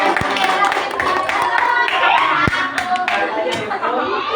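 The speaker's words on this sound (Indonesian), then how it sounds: "tepuk tangan buat" A class of students, children among them, claps for a classmate during a classroom career-guidance session, a dense, steady patter of hand claps filling the room with some voices mixed in.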